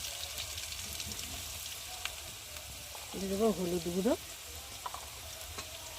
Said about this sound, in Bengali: আলুগুলোকে একটু লাল লাল করে ভেজে নেব